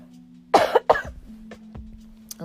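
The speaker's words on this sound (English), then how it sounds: "I can't stop coughing." A sick person coughing, two sharp harsh bursts close to the microphone followed by quieter throat sounds, with a faint steady hum underneath.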